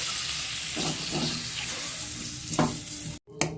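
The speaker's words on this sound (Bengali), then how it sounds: "হলুদ গুঁড়ো ভালো করে এটা ভেজে নেবো" Ginger, turmeric powder and chopped tomato fry in hot oil for vegetable dal, a continuous near sizzle with occasional stirring scrapes, briefly cut off near the end before resuming.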